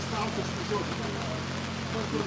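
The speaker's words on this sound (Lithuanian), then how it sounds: "Tragiškai lyja." Heavy rain pours steadily at an outdoor desert festival camp, a dense continuous hiss of drops drumming on surfaces close by with no pause.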